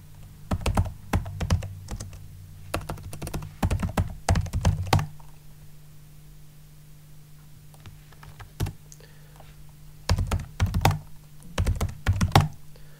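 Keystrokes on a computer keyboard entering a password on an Ubuntu Server, fast bursts of close, crisp taps separated by a quieter pause, over a low steady hum.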